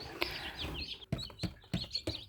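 Newly hatched Faverolles chicks peep in a brooder, giving a run of high, thin chirps. Several soft low thumps and knocks break in at irregular intervals, and no one talks.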